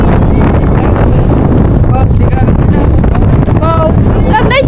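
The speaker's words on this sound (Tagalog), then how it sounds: "Medyo mahangin. Hangin na." Strong wind blowing at a beach at low tide, buffeting the microphone in a loud, continuous roar, with voices talking faintly beneath it.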